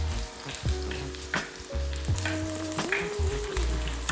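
Corn fritters (perkedel jagung) frying in hot oil, a steady loud sizzle with crackling bursts and a few clinks of a utensil, no voices.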